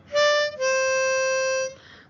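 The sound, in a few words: harmonica playing pattern: blow 5 twice, draw 4, blow 4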